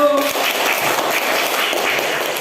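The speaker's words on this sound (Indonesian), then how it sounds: "tepuk tangan untuk kelompok 1" Classroom applause for a student group, a short burst of dense clapping from a room of students lasting a couple of seconds, with some voices underneath.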